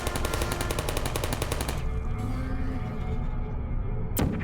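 Rapid automatic gunfire from a turret in a video game, a dense rattling burst for nearly two seconds that gives way to a rumbling, noisy tail and a sharp later crack.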